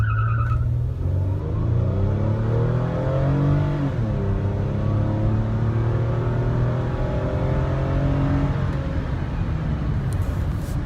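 A Toyota Sienna minivan with nearly 270 horsepower accelerates hard, its engine note climbing steadily and loud from inside the cabin, with a brief tire squeal and continuous road roar.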